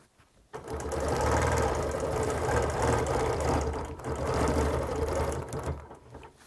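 A sewing machine stitches a big all-over quilting design with round rulers, a loud, close, continuous rhythmic whirring hum that runs almost unbroken with one brief dip.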